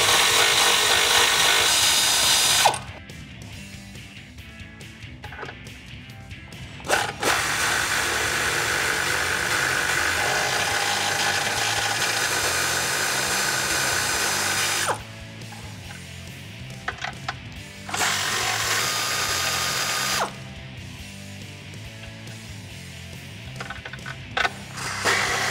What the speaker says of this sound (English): we're going to use an 18mm socket to get these nuts off